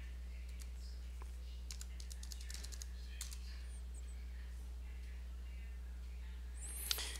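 A terminal command being typed on a computer keyboard: a short burst of light, rapid key clicks, then quieter scattered taps over a steady low electrical hum, ending with a brief sharp click.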